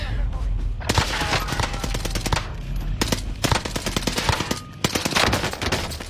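Rapid video game gunfire crackles in dense bursts of shots, loud and close, continuing throughout with brief gaps.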